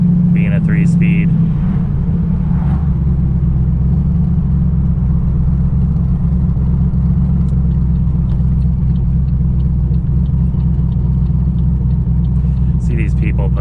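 A 1000 whp turbocharged Pontiac G8 with a three-speed Turbo 400 transmission cruises on a cold street, its engine a loud, steady low rumble, while someone talks over it.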